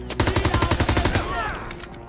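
Enemy machine gun fire in Call of Duty: WWII on D-Day, a fast, steady burst of evenly spaced shots, loud and close, that stops after about a second and a half and leaves a fading echo.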